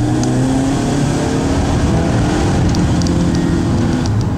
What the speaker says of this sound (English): It's a 4-cylinder. What do you expect? It's not going to sound like hell on earth is coming or an airplane's flying overhead, but it does sound like a sports car.